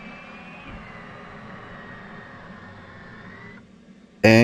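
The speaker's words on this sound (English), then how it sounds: "Battery switch on. Turn on the APU. And while it's starting, we can close the canopy" F/A-18C Hornet auxiliary power unit spinning up in DCS World, a steady whining turbine hum with a faint high tone that cuts off, followed by a sudden loud click at the end.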